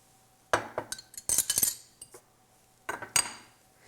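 Pie crust ingredients and salt being stirred together in a bowl: several bursts of clinking and scraping of a utensil against the dish, separated by short quiet gaps.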